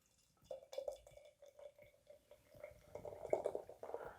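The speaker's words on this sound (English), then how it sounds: "So let's give it a pour here." Narragansett Citra Session Ale, a dry-hopped American blonde ale, poured fairly aggressively into a glass, a steady trickling splash that builds and grows fuller toward the end, heard up close with no talking.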